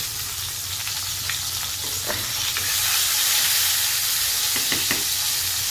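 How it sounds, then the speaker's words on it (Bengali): Koi fish fry in hot oil with a loud, continuous crackling sizzle that swells partway through, close up, with a few faint utensil clicks and no voices. "একে একে সব মাছগুলো ভেজে নেবো"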